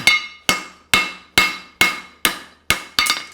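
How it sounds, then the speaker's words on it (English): A hammer strikes a horseshoe on an anvil while a hind preventer shoe with a heel cork is forged, giving eight evenly spaced, bright ringing blows, each decaying quickly before the next. "those last hammer blows are pulling into it"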